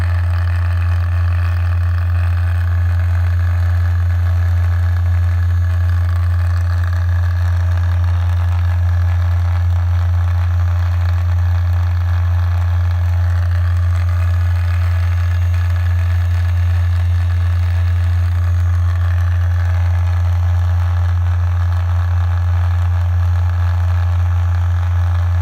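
A 12V DC motor spinning four magnets in a homemade generator drones at a steady, loud hum with no break, a constant mechanical whir throughout.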